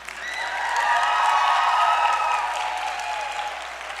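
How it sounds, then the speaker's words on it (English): Audience applause at a political rally, a broad wash of clapping that swells within half a second, stays full and even, then eases slightly toward the end; faint cheering is mixed in. "You can clap for that."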